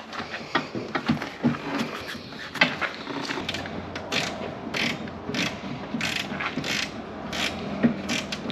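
Rapid, repeated ratchet clicks of a wrench tightening, close by, in steady bursts with brief pauses between strokes.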